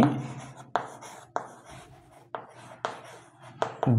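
A teacher writes numbers by hand, the pen or chalk making short scratchy strokes in bursts, with a sharper tap at the start of each one. The sound is close and alone, with no talk.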